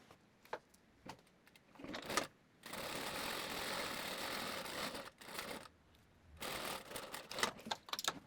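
A sewing machine runs in two long, steady bursts while stitching a narrow handkerchief-style hem along a dress neckline, with quieter handling clicks and rustles between the runs.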